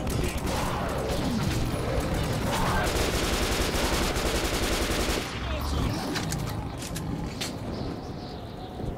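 Sustained bursts of rapid automatic gunfire from the video game Metro 2033 Redux crackle loudly and nearly without pause, easing into sparser shots and mechanical clatter toward the end.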